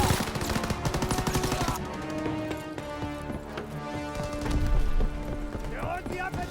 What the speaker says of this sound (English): Die feuern auf mich!